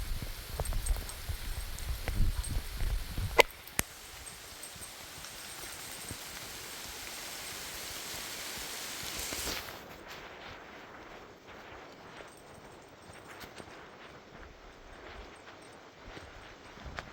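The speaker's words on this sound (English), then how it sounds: "I knew that it was going to rain and stuff because it had been raining all day" Steady rain patters and hisses under trees while two dogs are walked on a wet, drizzly day, with a sharp knock partway through and the downpour easing to a softer, quieter fall afterward.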